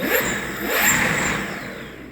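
Motor of an electric skateboard with custom fatty hubs and new 8-inch wheels spinning freely, a steady whirring hum that swells and eases slightly, close and alone without speech.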